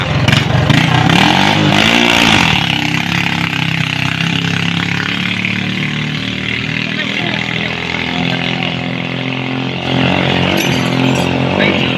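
Racing boat engines being tested before a bangkarera race in Malay, Aklan, loud buzzing roar close by with revving swells and throttle changes, continuous for the whole stretch.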